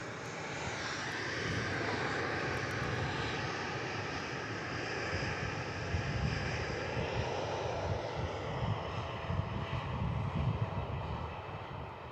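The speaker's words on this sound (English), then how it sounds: "enjoy the Purple Princess as they begin their departure off to Bangkok as Thai Airways Service 484. The Dreamliner." A Thai Airways Boeing 787 Dreamliner departs Perth airport for Bangkok, its jet engines producing a steady, broad roar that holds for the whole stretch at moderate distance, with no talking.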